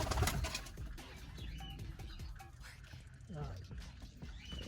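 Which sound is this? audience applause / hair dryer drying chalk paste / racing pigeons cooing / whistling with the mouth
racing pigeons cooing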